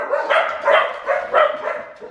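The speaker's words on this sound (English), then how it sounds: "the dogs were frantically barking" Several dogs bark frantically indoors in a rapid, repeated burst of loud barks and yips, a clear repeating rhythm with no talk over it.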